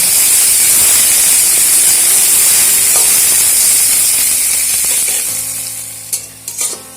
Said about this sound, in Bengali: পেঁয়াজগুলো একটু লালচে বাদামি করে ভাজবো